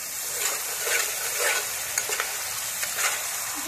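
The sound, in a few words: stir-frying spices with green chillies for hilsa curry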